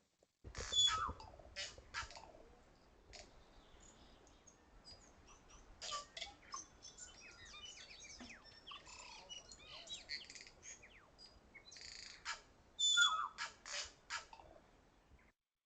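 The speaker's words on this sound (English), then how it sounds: "that was the sound of tui" Tui, a black-plumaged native New Zealand bird, calling in the Zealandia sanctuary: bursts of bright chirps, clicks and whistled notes scattered across the whole stretch, with louder clusters near the start and close to the end.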